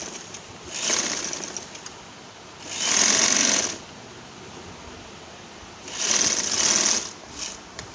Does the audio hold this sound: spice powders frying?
no